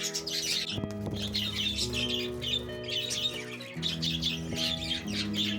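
A colony of pet budgerigars kept by a breeder chirps and squawks continuously in a busy overlapping chatter, with occasional wing flutters and a faint tonal hum underneath.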